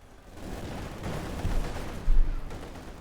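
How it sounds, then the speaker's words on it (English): Stick grenade blast amid gunfire in Company of Heroes 2, Volksgrenadiers under fire: a steady rattle of shots with two heavier booms, the second the loudest, no voices. "Grenade off, the Stielhandgranate"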